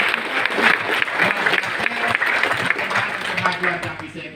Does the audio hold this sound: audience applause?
yes